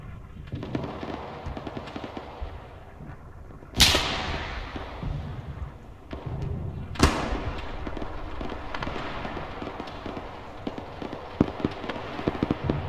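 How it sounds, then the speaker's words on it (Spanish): Gunfire in a Soviet-front battle game, with two sharp loud nearby cracks and a steady spatter of distant popping shots and rattle throughout. "Al 310 parece que hay una ametralladora."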